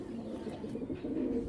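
A pigeon, a long-tailed flying breed kept as a high-quality racing bird, coos softly and repeatedly at close range. The murmuring low notes run continuously with no voices.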